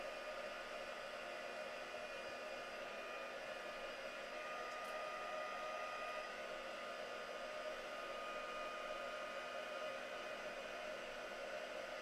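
Heat tool blowing to dry paint on a card, a continuous close whooshing drone held steady throughout, with no voices.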